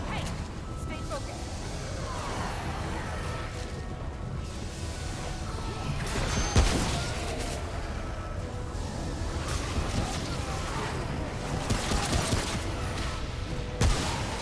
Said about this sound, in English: Shotguns are nice because I don't really have to aim.